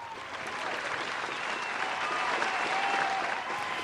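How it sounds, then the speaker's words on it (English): A crowd claps in a round of applause for young people who finished band camp, dense steady clapping that swells slightly and holds throughout, close and fairly loud. "a round of applause for these young people"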